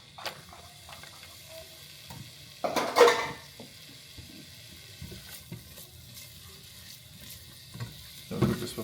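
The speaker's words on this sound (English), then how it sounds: "we're going to saute our onion, ginger, and garlic" Onion sautéing in oil in a pan gives a soft steady sizzle, broken by a few clinks and scrapes of stirring utensils against the cookware.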